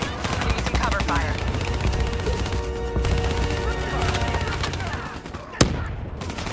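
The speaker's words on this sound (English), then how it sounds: "We're using cover fire." Covering gunfire in Call of Duty Black Ops 3, a steady roar of rapid automatic shooting with battle noise under voice chatter, ending in one sharp loud crack before a brief lull.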